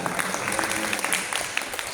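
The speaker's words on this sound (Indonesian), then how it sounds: "Beri tepuk tangan untuk Kota Magelang." Applause rises from an audience at an Indonesian disability employment outreach event honoring the city of Magelang, brief and lively with distinct individual claps popping out of the dense crowd clapping.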